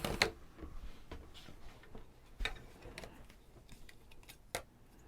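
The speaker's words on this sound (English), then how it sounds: "Scissors is probably going to be your best option for this cut." Sharp scissor snips cutting through blanket fabric along a seam, a few crisp clicks spaced irregularly, close by with no talking.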